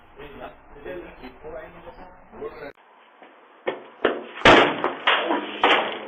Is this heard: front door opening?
yes